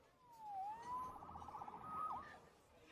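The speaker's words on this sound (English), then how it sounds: "Saved by the siren." Inside the Spider-Man Remastered video game, a police siren wails faintly, sweeping up and down and then breaking into rapid warbling yelps, heard at a distance under a quiet background.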